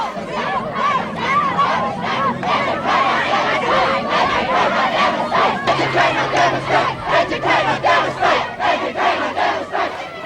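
A crowd of high school students protests on the school oval, chanting and shouting as Dr Metherell arrives. Loud rhythmic collective yells pulse in waves, with a honk and a babble of voices mixed in throughout.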